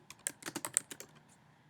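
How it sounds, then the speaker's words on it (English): Quick burst of computer keyboard typing, about a dozen close, crisp key clicks in rapid succession before stopping, with no talking. "here you can either start typing in the routing number or the bank number"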